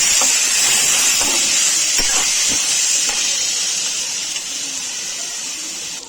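Washed rice dropped into a hot pan and fried for coconut rice, giving a steady loud sizzling hiss with a few faint scrapes, fading slightly toward the end.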